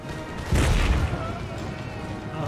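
Cannon and musket volleys from an Empire Total War battle give a single heavy boom with a rumbling crackle of shots trailing off, dense and fairly loud.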